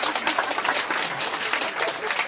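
An audience applauds at a wildlife park animal show, a brief, even wash of clapping from a crowd with no break.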